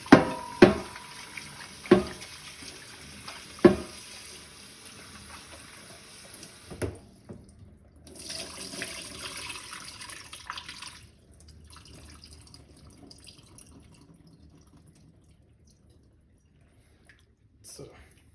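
Tap water runs into a sink as raw chicken is washed, beginning with a few sharp splashes and knocks, then a steady splashing stream that thins out and fades toward the end, with talk over parts of it.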